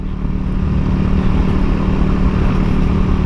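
A Yamaha Mio motor scooter rides slowly along a cold mountain road to Dieng, its small engine giving a loud, steady droning hum mixed with wind rush, continuous and close.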